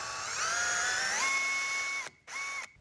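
A power drill drives long screws into the wooden frame of a bike drawer built for a van or motorhome, its motor whining up in pitch as the screw bites, then stopping and briefly restarting.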